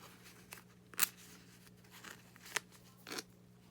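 Scissors cutting paper pages for a handmade junk journal: a few faint, sparse snips and crunches spread unevenly over a quiet room background.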